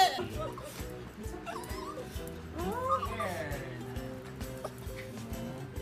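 A small stray dog whimpers and yips in short, thin cries close by, while people talk over it.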